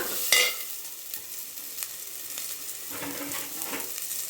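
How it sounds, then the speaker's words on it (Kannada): Onions frying in a pan for a tomato kurma, a steady broadband sizzle with a few sharper crackles and stirring scrapes, close and continuous with no talk. "ಹಾಗೆ ಈರುಳ್ಳಿ ಬಣ್ಣ ಒಂದು ಸ್ವಲ್ಪ ಚೇಂಜ್ ಆಗೋ ತನಕ ಚೆಂದ ಹುರಿಯೋಣ"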